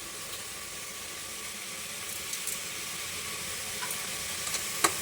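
Black chickpea masala sautéing with salt over a high flame for a Chettinad curry gives a steady, faint sizzle and hiss with a few light stirring ticks near the end. No one speaks.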